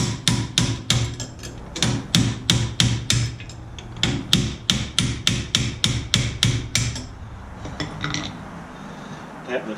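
A hammer strikes metal in rapid, evenly spaced ringing taps while loosening the wishbone stud on a Jeep Grand Cherokee during CV axle replacement, close and loud in bursts, then a few lighter taps.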